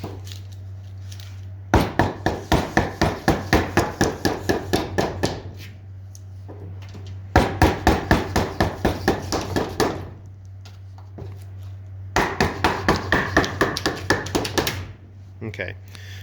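Hammer blows on metal bent over a table edge, shaping a head rest, come in three close, loud bursts of rapid, evenly spaced strikes separated by short pauses, with a steady low hum underneath.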